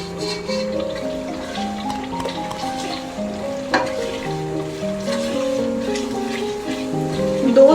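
Whole spices with dry coriander, red chili powder and ginger powder fry and get stirred in a pan for chana dal, giving a steady soft sizzle with occasional scraping under melodic background music.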